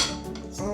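Sesame seeds being stirred into a Japanese-style dressing in a bowl, giving a steady, close scraping and light clinking of a utensil against the dish.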